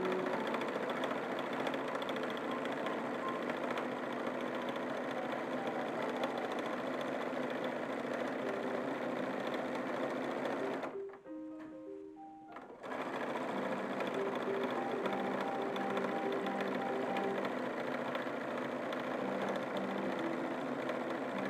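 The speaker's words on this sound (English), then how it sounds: "I'm going to run a quick seam by machine right along the piping edge, all the way around the waistband" A sewing machine runs a steady seam along the piping edge of a printed cotton 1850s-style dress waistband, a continuous close mechanical whir that pauses briefly midway before resuming.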